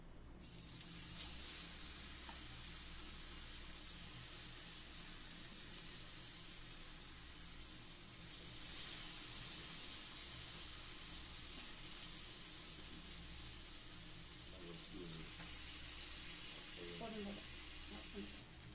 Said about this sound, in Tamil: இப்போது நான் தோசைக்கல்லில் இந்த அப்ளை பண்ண கத்திரிக்காயை இதில் ஃப்ரை பண்ணலாம் வாங்க.